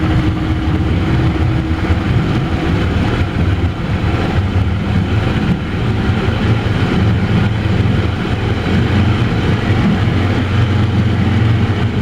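A 2004 Mercury 60 hp outboard motor running steadily at around 3,000 RPM, a loud, close, even engine drone with a smooth low hum and water wash throughout.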